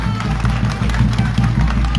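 A crowd claps for Sierra Leone's President at a public launch event, loud, close and continuous, with a strong low rumble, a murmur of voices and some cheering mixed into the clapping.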